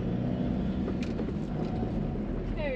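A large car drives along a village road in Punjab on a morning drive, its engine and tyre noise forming a steady, close, low rumble that continues throughout with no talk.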